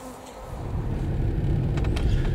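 Buzzing of a honeybee swarm close to a hive box, a steady low drone that builds slightly over a couple of seconds, with a few brief sharper rustles near the end.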